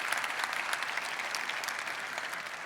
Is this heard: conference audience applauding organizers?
yes